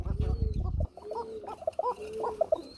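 A Bombay pigeon coos in short, soft, repeated calls after a burst of louder handling noise at the start; the calls are fairly close but quiet.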